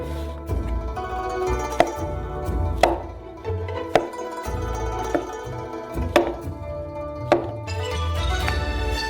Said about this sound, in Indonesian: setiap jamur dipotong menjadi 4 bagian